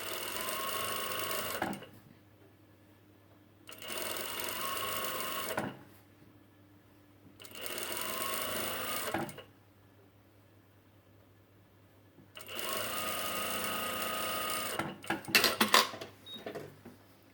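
A sewing machine stitches seams in stretchy poncho fabric, running in four loud bursts of a few seconds each, separated by quiet pauses, with a clatter of handling at the very end.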